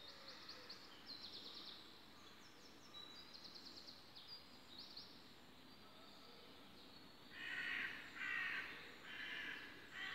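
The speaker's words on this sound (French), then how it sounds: "j'avais envie de vous faire profiter de la nature, du chant des oiseaux" Birds call and sing outdoors on a calm morning, with crow-like caws and scattered chirps. Quiet background hiss sits under them, and a louder cluster of calls comes near the end. No one speaks.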